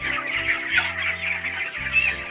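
Chickens on a poultry farm clucking continuously, several birds close by with overlapping, fairly soft calls and a steady low background hum.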